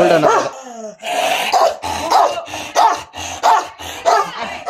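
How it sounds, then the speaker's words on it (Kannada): A dog barks repeatedly and loudly up close, a fast run of about eight sharp barks in an uneven rhythm. "ಬರೀ ಒಂದು ನಾಯಿ ಬೈತಾಯಿತ್ತು ಮಚಸ್"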